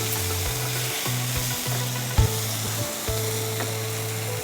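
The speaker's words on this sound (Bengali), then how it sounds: "এই 2-3 মিনিটের জন্য একটু মশলাগুলোকে কষিয়ে দিই।" Spices frying and being stirred in a pan for chicken: a steady sizzle under a prominent droning mechanical hum, with occasional utensil knocks, close and even, and no one speaking.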